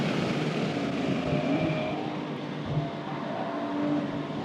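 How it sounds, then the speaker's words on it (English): A Porsche 992.2 Carrera with a Soul exhaust running on a race track, a steady engine drone with a continuous exhaust note and no talk over it. "Sounds good with that Soul exhaust too."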